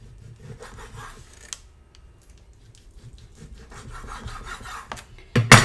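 A knife cuts pork belly into cubes on a cutting board, with quiet scraping and rasping strokes that grow busier, ending in a louder knock and clatter, with no voices.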